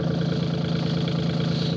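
Tractor engine running steadily for snow work in medium gear, a close, loud, even drone with a strong low hum and no change in revs, heard alone without speech.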